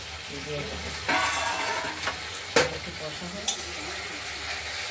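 Fried pointed gourd pieces sautéing in a pan for a spicy potato curry, a steady sizzle broken by a few sharp scrapes and clinks of a spatula against the pan.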